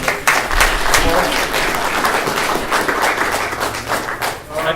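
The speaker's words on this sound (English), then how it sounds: "Have a round of applause." An audience at a community paramedicine presentation breaks into steady, full applause, dense overlapping clapping that holds loudly for the whole stretch.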